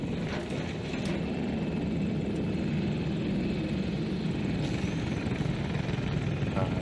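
A Nightbird helicopter in Battlefield 2042 whirs and roars in a steady, loud, unbroken drone, with faint game sounds flickering over it and no talk.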